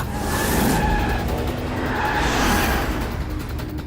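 Car speeding and skidding during a film chase, a loud engine roar with two bursts of tire screech in close succession, no talk.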